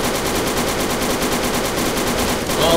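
A big gun in Fallout 3 fires a fast, evenly spaced stream of loud, punchy shots in one continuous burst, close and dominant with no speech.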